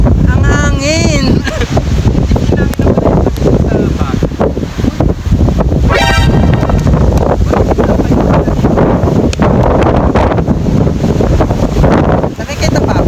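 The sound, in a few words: strong wind on Tarak Ridge mountain summit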